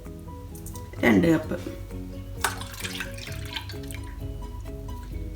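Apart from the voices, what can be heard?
full cream milk being poured into a saucepan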